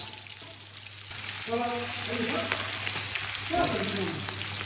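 Onions frying in mustard oil in a karahi, a soft sizzle that swells after the first second and holds steady, with faint voices talking in the background.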